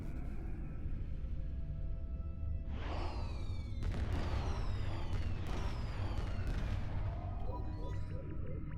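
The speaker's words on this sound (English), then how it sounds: "I love my fireworks." Fireworks in the video game Star Trek Online, during a Halloween event, burst after a quiet stretch into a dense run of loud booms, crackles and whistling streaks that continue to the end over a steady low background rumble.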